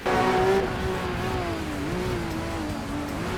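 A sports car engine in the street racing game Midnight Racing: Tokyo, droning steadily at high revs as the pitch dips briefly under braking, then holds and wavers through a corner, close and continuous.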